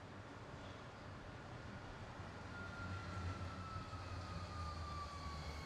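A tram passing on a street, a faint, steady rumble with a thin rising-and-falling rail whine that swells gently midway and carries on.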